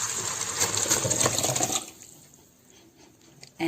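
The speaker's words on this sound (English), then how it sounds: "Into this I'm going to put the mutton and the stock" Mutton and stock pour into an electric rice cooker pot, a splashing liquid rush lasting under two seconds, then quiet with faint clinks.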